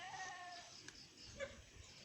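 A goat bleats faintly, a few short wavering calls against quiet background noise.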